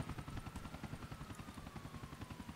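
A helicopter in the video game GTA IV hovers close by, a steady loud rotor chop beating in rapid even pulses under a faint whining turbine tone.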